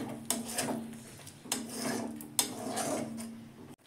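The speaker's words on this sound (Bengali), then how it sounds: "দইটা দিয়ে আমি কিছুক্ষণ কষে নেব।" Soybean curry with yogurt being stir-fried in a pan, giving a steady scraping and rasping of a spatula against the pan bottom, with a few sharper knocks and a low sizzle running throughout.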